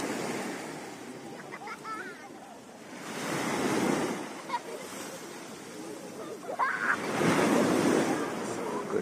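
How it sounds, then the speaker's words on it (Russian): Small, moderate sea waves wash onto a beach in Sochi on a cloudy August morning, swelling and receding in broad rolling surges with some wind noise on the microphone. "Какие волны. Небольшие, нормальные."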